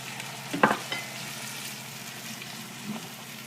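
White wine poured into a pan of frying meatballs, a steady close sizzle with a brief louder splash and stirring clatter near the start.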